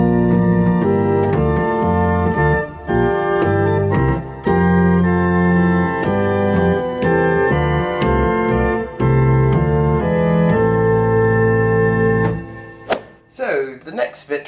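Church organ plays the hymn tune Abbot's Leigh with full chords moving in steady phrases, loud and sustained throughout, before the sound stops and a voice briefly speaks.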